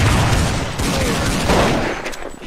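Rapid bursts of gunfire ring out in a first-person shooter video game, a loud dense volley of shots with sharp repeated cracks over about two seconds.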